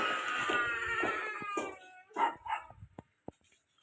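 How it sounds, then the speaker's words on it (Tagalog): A dog barks a few times at close range, short sharp yaps trailing off into quiet. "Aso."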